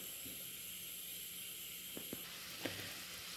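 Butter and onion sizzling in a pan at the start of a white sauce for lasagna, a steady soft hiss throughout with a few faint clicks of a utensil.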